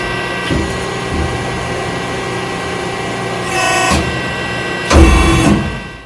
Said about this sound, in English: Machine is setting up for the second step. Back gauge is moving back.